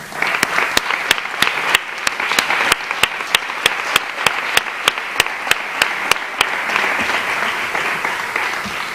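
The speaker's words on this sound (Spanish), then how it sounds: "podríamos darles un aplauso a todas las personas mayores que nos ven" At a Christmas concert by inclusive orchestras in San Juan de Aznalfarache, an audience breaks into sustained applause, a dense wash of many hands with a few loud, sharp claps near the microphone that are spaced regularly through most of it.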